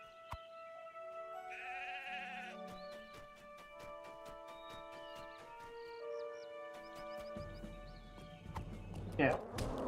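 Sheep bleat amid game sounds in Lord of the Rings Online, set in Dunland, with short animal calls over layered tones, musical notes and clip-clop-like hoofbeats, growing busier toward the end.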